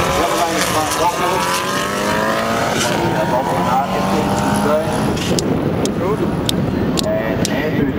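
A standard VW Beetle 1600 runs flat out at a drag strip, its engine note climbing steadily through the gears at full throttle. Crowd noise sits under it, with a few sharp clicks near the end.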